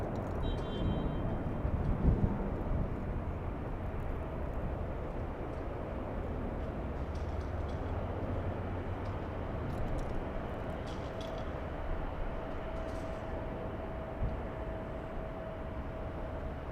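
A Southwest Airlines Boeing 737 MAX 8 arriving at Los Angeles airport, a steady distant jet roar with a faint sustained whine, continuous and even throughout with no talking.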